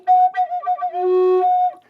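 A breathy Native American flute plays a short, wavering phrase of a few uneven notes with finger holes not fully covered, thin and unsteady, ending on a longer held tone.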